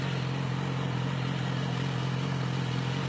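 A street motorcycle engine holds a steady, loud mid-pitched drone at high RPM, continuous and unvarying with no voices over it.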